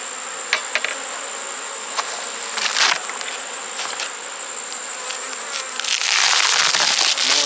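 Many honey bees buzz close by around a hive in a dense, continuous hum, swelling louder toward the end.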